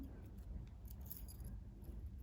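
Keys on a keychain jangle softly with a few light metallic clinks, quiet and close, with no talking.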